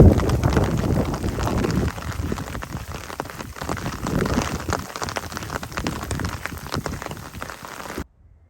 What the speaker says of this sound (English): it is now turning from rain to hail.